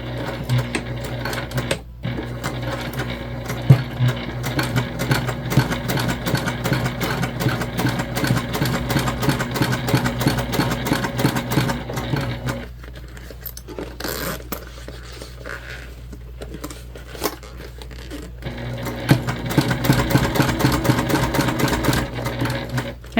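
A sewing machine stitches a large tote bag with an 1/8-inch seam, its steady mechanical whir running close and loud for most of the stretch, easing to a quieter, sparser stitching in the middle before picking back up.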